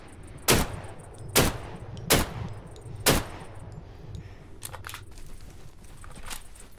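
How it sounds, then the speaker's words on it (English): Four sharp, loud rifle shots from a Mosin in the survival game Deadside crack at roughly even intervals, followed by quieter scattered outdoor noise. "Yeah, that's definitely a Mosin."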